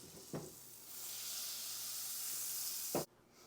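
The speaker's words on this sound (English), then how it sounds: "I'm going to go ahead and add about a tablespoon of olive oil and a tablespoon of butter." A tablespoon each of olive oil and butter sizzle in a hot skillet, a steady broad hiss that swells after a soft knock and cuts off abruptly near the end, with no voices.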